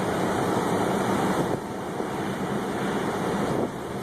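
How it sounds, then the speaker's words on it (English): Strong wind during a tornado in Springfield in 2011, a loud, constant roaring rush buffeting the microphone without let-up across the whole stretch. "Feel the wind?"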